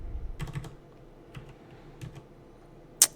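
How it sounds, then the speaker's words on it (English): Computer keyboard typing during setup of the Zorin OS 12 Ultimate Linux desktop: a few quiet, scattered key clicks close by, followed by a pause and then one sharper keystroke near the end. "Type in Zorin again."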